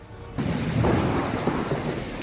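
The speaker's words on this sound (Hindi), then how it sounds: "बिजली की गड़गड़ाहट के साथ हुई तेज बारिश" Thunder rumbles through a storm with heavy rain, a loud, continuous low roar that begins abruptly after a brief quiet moment and holds steady with no voices.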